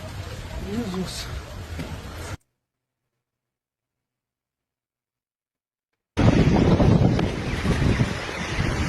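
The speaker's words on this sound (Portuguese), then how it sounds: "Vento, gente. Vento." Strong wind from an F3 tornado roars and buffets the microphone in a steady, loud rush, broken by a few seconds of complete silence before the blast resumes even louder.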